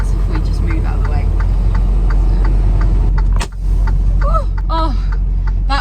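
A truck cab rolling forward, a steady low engine rumble with rhythmic ticking, a sharp clunk midway, and people talking over it inside the cab.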